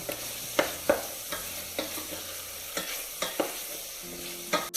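Veal pieces for tas kebab fry in their own rendered fat, a continuous sizzle punctuated by regular knocks and scrapes of a spoon stirring the pot, close and clear with no voices.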